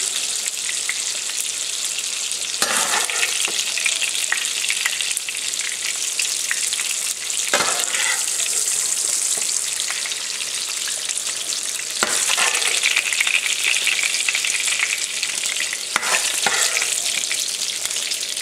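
Rendered fat for New Orleans-style red beans fries in a pan with a bright, steady sizzle, broken by several scraping stirs at intervals, close and loud without any voices.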